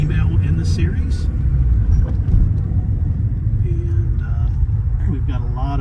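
A 1986 Porsche 944 Turbo Cup race car from the German one-make series drives with a steady, loud, close engine rumble throughout, and brief tonal sweeps rise near the end.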